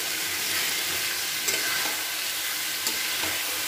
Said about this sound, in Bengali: এবার আমি সেদ্ধ করে রাখা এঁচোড়টাকে আমি ওর মধ্যে দিয়ে দিচ্ছি। দিয়ে খুব ভালো করে এটাকে মিশিয়ে নেব।